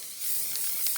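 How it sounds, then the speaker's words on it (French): Spray adhesive glue from an Action can hisses out in one steady, close burst lasting about a second, used while making a greeting card, with no voices over it. "c'est celle-ci, de chez Action, la colle spray."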